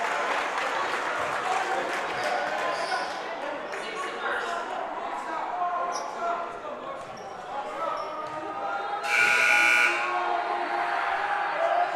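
A buzzer sounds at a boys' high school basketball game, Canisius vs Nichols, a loud, sustained electronic tone near the end over steady gym crowd noise and shoe and ball sounds.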